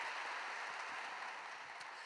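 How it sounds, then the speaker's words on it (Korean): Quiet, continuous clapping from a congregation at a Korean early-morning worship service at Yoido Full Gospel Church, applauding in thanks to the pastor, steady and somewhat distant. "은혜의 말씀 주신 우리 목사님께 감사의 박수 드리겠습니다"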